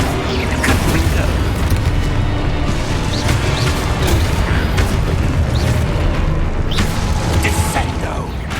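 In the PS5 game Hogwarts Legacy, a Confringo fire spell sets off explosions, heard as repeated deep booms and bursts within a loud, dense, unbroken wash of game sound.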